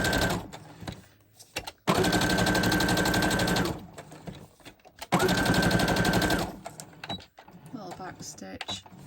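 A sewing machine stitches a zigzag over a tag in two loud bursts of fast, rattling needle motion, separated by pauses with quieter handling and fabric sounds.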